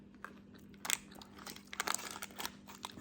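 Someone bites into a crunchy, oil-free vegan apple muffin, giving a few quiet, close crunches followed by soft chewing and crinkling, with no talking.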